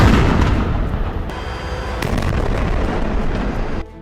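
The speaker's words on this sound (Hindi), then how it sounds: "इजराइल की सेना ने यहां मिले विस्फोटकों को उड़ा दिया" Seized explosives and munitions detonated by the Israeli army in northern Gaza, a loud, sustained roaring blast with crackling bursts that rumbles for several seconds before cutting off abruptly.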